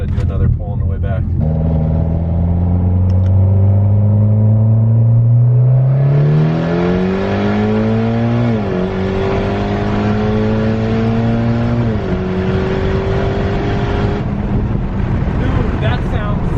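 A Mitsubishi Evo 10 with a straight-piped exhaust and open dump downpipe accelerates hard, its loud, raspy drone climbing steadily in pitch through several gear changes before easing off.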